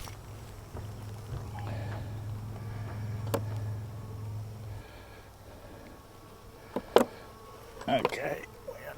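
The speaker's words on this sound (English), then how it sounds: "There's a few bees in here." A few bees buzz during a honey harvest, with a low droning hum through the first half, then faint scattered buzzing and sharp knocks and clatter of equipment nearby.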